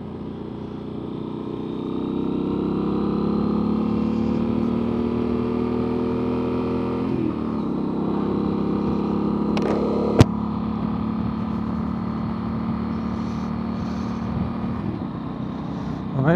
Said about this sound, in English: I absolutely love the sound of this exhaust. It's gorgeous. But it's too loud.